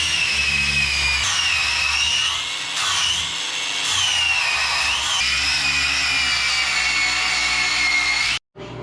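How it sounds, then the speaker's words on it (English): An angle grinder smooths rough weld seams on steel frame mounts of an S10 pickup fitted with Corvette suspension, a loud, continuous high-pitched whine with slight pitch wavers that cuts off abruptly near the end. "I need to take my grinder to some of these disgusting weld seams"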